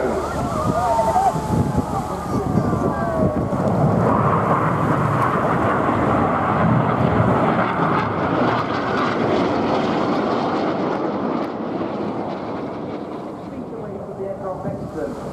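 Display team fast jets flying over an air festival at Bournemouth, a loud sustained engine roar that swells and slowly fades across the whole stretch, with a commentator talking over it.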